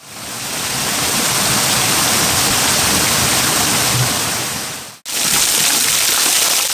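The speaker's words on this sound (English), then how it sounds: "Deep in the trees, I found a much better waterfall, tucked away in a sheltered ravine." A waterfall tucked in a sheltered woodland ravine in Burgh Wood, East Sussex, roars as a steady, dense broadband rush close by, with one brief break near the end before the torrent resumes.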